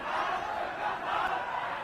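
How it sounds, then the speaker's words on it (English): Hong Kong street crowd shouting abuse and curses during political unrest, a dense, sustained roar of many angry voices close by with no pauses. "you get scenes like this, with the crowd hurling abuse and curses at them"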